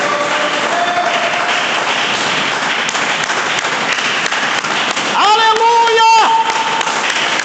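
Congregation at a church service clapping hands joyfully, a lively steady patter of claps under voices, with a singing or shouting voice rising briefly near the end.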